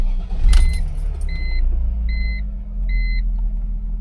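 Car engine running on a Walmart car battery, a steady low idle rumble after a brief jolt, with three evenly spaced electronic beeps chiming over it.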